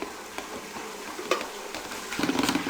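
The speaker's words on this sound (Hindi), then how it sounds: "अब मधदानी की मदद से इसको अच्छी तरह इसमें मिक्स कर लें।" Scraping and stirring in a thick kadhi pakora mixture with a wooden churner, with soft irregular clicks that build into a busier, louder churning toward the end.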